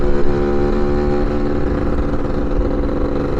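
A Lambretta or Vespa scooter engine drones continuously and loudly while riding through a valley on a scooter rally, with a rough buzzing tone and wind noise.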